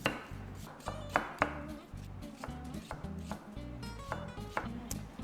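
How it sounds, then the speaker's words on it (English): Knife thinly slicing cabbage on a cutting board for oyster bossam kimchi, quick irregular chopping taps close by, layered over steady low background music with no talk. "So we make thinly sliced. At the end, we're gonna make julienne. So we make thin slice of"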